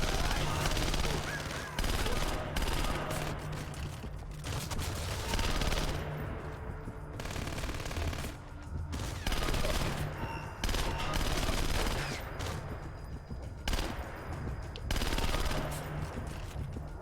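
Pistol fire from an FN 5.7 in the stealth shooter game Splinter Cell Conviction, shots cracking in uneven bursts over busy game noise, with speech mixed in at points.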